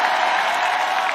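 Church congregation applauding, a steady dense wash of clapping that fills the whole moment without a break.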